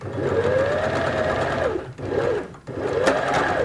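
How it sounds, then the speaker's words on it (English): A sewing machine stitches a pleated cotton face mask, running close and loud in a steady whir, pausing briefly twice as the stitching goes backwards and forwards, with no voices. "come off the machine, begin again here, sew, come across, backwards and forwards"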